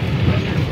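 A brief, close, steady mechanical rumble from a Kolkata tram on route 5.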